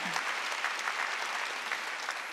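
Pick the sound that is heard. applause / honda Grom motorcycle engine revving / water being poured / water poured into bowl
applause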